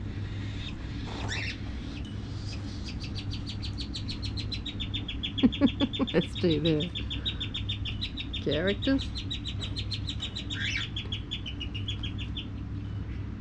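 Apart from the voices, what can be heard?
cockatiels calling in a bird aviary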